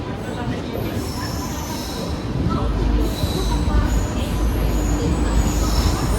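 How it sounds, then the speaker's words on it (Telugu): Gouthami Superfast Express pulling into platform 1 at Warangal station: a loud, continuous rail rumble with screeching wheel squeal that swells over the last few seconds, amid a crowded, noisy platform. "ప్లాట్ఫామ్ నెంబర్ 1కి అయితే వచ్చింది మన ట్రైను."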